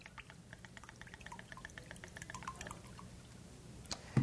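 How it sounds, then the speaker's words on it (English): Tequila poured into a double shot glass while mixing a Norwegian-style Prairie Fire drink, a thin steady trickle with faint dripping, fairly quiet and continuous for a few seconds. "So let's go ahead and pour that in."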